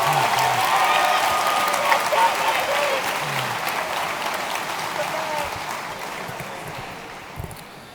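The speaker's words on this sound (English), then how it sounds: "A round of applause for that." Enthusiastic applause from a large audience at a 2017 high school graduation ceremony, dense clapping that swells loudly, then gradually thins and fades, with a voice briefly audible near the end.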